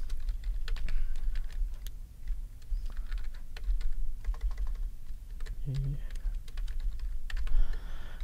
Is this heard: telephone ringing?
no